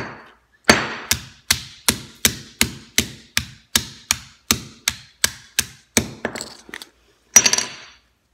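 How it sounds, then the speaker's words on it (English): A sledgehammer pounds a plastic highlighter marker in a rapid run of about fifteen sharp, loud blows at a steady rhythm, followed by a brief pause and one final hard strike. "I'm gonna sledge it right out here."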